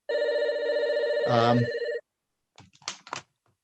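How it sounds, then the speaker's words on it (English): A mobile phone ringtone sounds during an online video call, a loud steady electronic tone lasting about two seconds before cutting off, followed by brief speech. "Somebody mute their phone, please."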